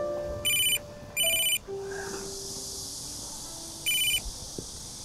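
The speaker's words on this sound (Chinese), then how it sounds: "我接个电话" A phone ringtone chirps in three short electronic bursts, bright and close, with quiet room noise between them in a formal setting before a thesis defense meeting.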